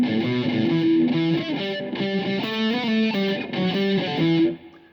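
Heavily distorted electric guitar plays a riff from part C of a song, with chugging palm-muted notes and changing pitches in steady rhythm, loud and alone, ending with a short decay.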